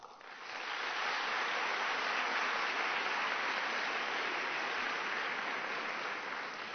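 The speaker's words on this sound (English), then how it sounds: "let me just have some applause from how many of you here today" An audience at an arts advocacy lecture in Washington breaks into sustained applause, a dense even wash of clapping that swells quickly and holds steady for several seconds.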